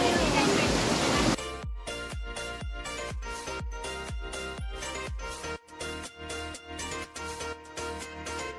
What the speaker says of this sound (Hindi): यहाँ पे इतनी फोर्स पानी आ रहा है।